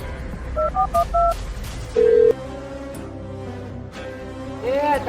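A telephone number is dialled, giving a quick series of short keypad tones, then a longer steady tone, with background room noise.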